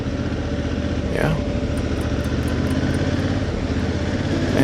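A motorcycle ridden very slowly along a mountain road in the lower Himalayas, with a steady close engine chug and wind rumble throughout and light chirps above it.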